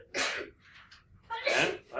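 Two sneezes in a classroom during a math lesson, each a sharp burst close by, the first slightly stronger, with a brief pause between them.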